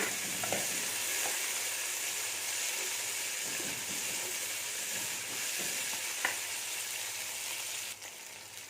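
Chopped tomatoes fry with onions in a pan, making a continuous close sizzle and hiss with a few scraping stir sounds. The sizzle drops slightly near the end, and no voices are heard.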